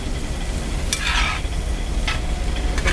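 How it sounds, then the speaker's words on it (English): Fried potatoes being stirred back in with green peppers and onions in a cast iron skillet, a steady sizzle under scraping stirs, with a couple of brighter spatula scrapes standing out. "Now we add the potatoes back. And mix it all together."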